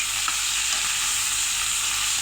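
Potatoes sauté in a frying pan, a steady close sizzle and hiss with soft scraping as they are stirred, continuous and without talk.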